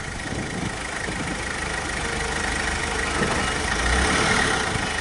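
An old green truck's engine idles close by in a steady, continuous low rumble with a faint knock, its level rising slightly toward the end, with no voices.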